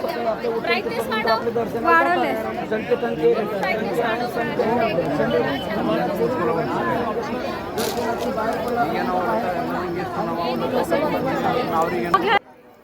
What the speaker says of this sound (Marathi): बघितलं तुम्ही किती गर्दी आहे